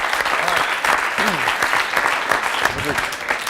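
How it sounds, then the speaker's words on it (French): An audience applauds warmly at an impressionists' competition, dense sustained clapping with voices mixed in underneath. "on peut l'applaudir très, très fort."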